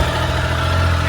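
A pickup truck engine running steadily at idle after starting, a deep low rumble close by with no pauses.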